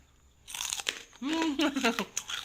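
Crunchy fish rice crackers are bitten with sharp, close crackling crunches, and a voice is heard between the bites.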